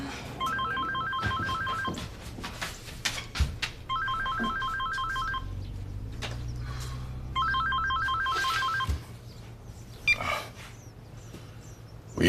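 A telephone ringtone in a home plays three electronic trilling bursts at regular intervals, moderately loud over quiet background sounds, with no talking.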